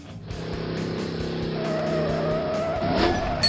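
Toy monster trucks in a children's counting cartoon rev and roll with a steady engine-like drone and tire squeals, loud and continuous with no talking.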